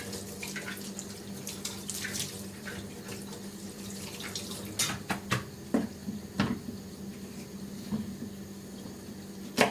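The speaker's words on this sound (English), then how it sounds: "Rinse them off." Produce, including jalapeno peppers, rinsed under a running kitchen tap for juicing, a steady hiss of water with occasional clunks and splashes near the end, no talking.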